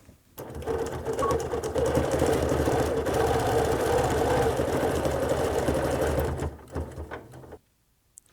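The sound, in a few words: sewing machine stitching a quilt along the seam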